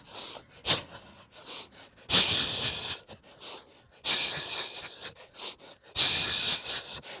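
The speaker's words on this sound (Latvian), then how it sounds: "Elpojam." Heavy, rhythmic breathing during a boxing workout in the third round, with loud forceful exhales in bursts roughly every two seconds and quieter breaths and sniffs between them, close to the microphone.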